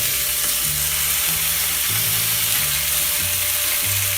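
Bacon frying in a hot pan for a classic BLT, with a steady, loud sizzle throughout and a low rhythmic hum beneath it, and no talking.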